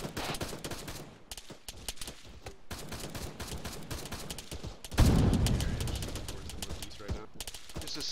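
Rapid bursts of rifle and machine-gun fire from a squad in a military game, crackling steadily throughout with a heavier, louder stretch of fire in the second half, voices talking over it.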